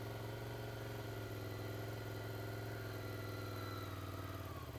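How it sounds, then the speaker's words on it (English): A Ducati Scrambler Desert Sled motorcycle holds a fast idle in first gear during a slow U-turn, its engine giving a steady, even drone with no talking. "First gear, fast idle, bit of rear brake."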